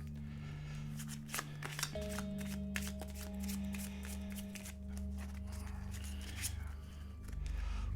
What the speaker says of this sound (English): And we'll shuffle these movement cards.